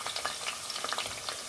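Onions and green chillies sizzle in hot oil in a pot while a small fish curry is being cooked, a soft, crackling fry with quick spitting pops, close and fairly quiet.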